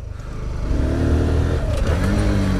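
Motorcycle engine revving up through a downshift with a throttle blip, then pulling hard under acceleration, a steady loud mid-pitched drone rising in pitch with no talk over it.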